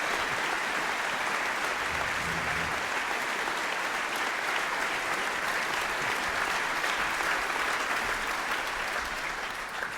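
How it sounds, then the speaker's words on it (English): Sustained, dense applause from a conference audience after a talk on the Ariane 6 rocket, a steady roar of many hands clapping at a constant loud level for the whole stretch. "A warm applause for Paul and Antos,"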